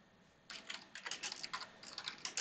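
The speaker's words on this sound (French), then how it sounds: "Je tape un titre pour mon document" Quick, steady clicking of a computer keyboard as a title is typed into a Word document, close and clear, with no voices.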